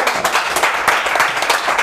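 A comedy club audience claps in a short, dense burst of applause that is loud and even, with no voices over it.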